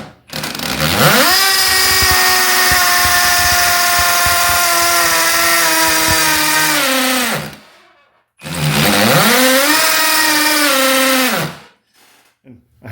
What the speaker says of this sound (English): let's put it on hammer drill